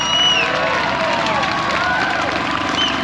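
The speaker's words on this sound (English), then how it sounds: "then make some noise and show some love. The louder you cheer" A large crowd cheers and roars for the United States Air Force Honor Guard drill team, a steady, loud wash of voices and applause that holds for the whole stretch without a break.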